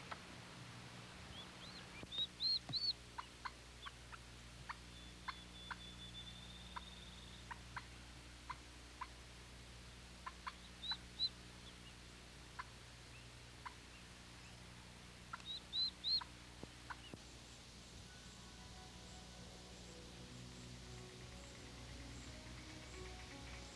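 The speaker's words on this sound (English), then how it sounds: "these little birds are able to communicate with their mother" Newly hatched Eastern wild turkey poults give faint, high peeping calls to their mother in short bursts separated by quiet gaps, soft and somewhat distant over a low outdoor hum.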